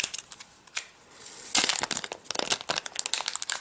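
Plastic wrap crinkles and tears off a small aluminum Apple TV remote in a quiet room, with a brief soft start and then a dense burst of crackling and crumpling that lasts about two seconds, heard up close.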